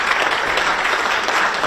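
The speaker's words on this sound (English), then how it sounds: "deserves tremendous applause" Audience applause during a speech, a brief dense burst of clapping from a crowd, steady and close.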